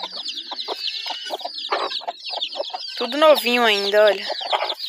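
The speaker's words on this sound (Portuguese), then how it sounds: "Olha que galinhas bonitas. Tudo querendo sair aqui já." Chickens kept penned in a farm coop cluck and squawk loudly and close by in a busy, overlapping chorus, with someone speaking Portuguese briefly among the calls.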